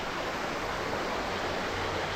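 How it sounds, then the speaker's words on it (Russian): Nihaloy waterfalls roaring outdoors: a steady, dense rush of falling water filling the whole stretch at even loudness, with no voices. "И мы можем сейчас поснимать вот эти водопады."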